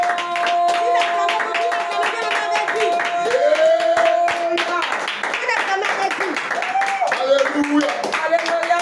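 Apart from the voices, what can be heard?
congregation clapping hands during worship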